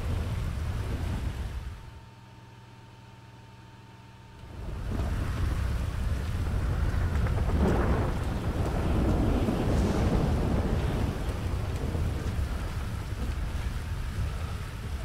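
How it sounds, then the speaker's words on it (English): Rain and rumbling thunder sound in a video game roleplay, a broad steady roar like wind and downpour that drops away briefly and then swells back loud, with no talking. "No, it's just getting out of the rain."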